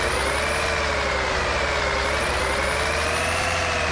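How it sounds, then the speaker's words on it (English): A Kenworth T660 truck engine in Euro Truck Simulator 2 runs loud and close, its drone swelling and easing twice in quick succession as the throttle is pressed lightly. "It's sort of giving a double rev there when I just put my foot down a little bit."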